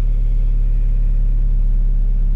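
A Subaru BRZ / Scion FR-S / Toyota 86 engine hums at a steady low rumble, close and loud, as the clutch pedal is slowly let out and begins to engage, with no voices over it.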